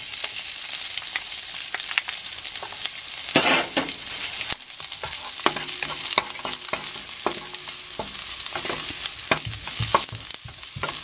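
Chopped garlic sizzles loudly and steadily in a hot pan, with clicks and scrapes from stirring breaking through the frying; no one talks.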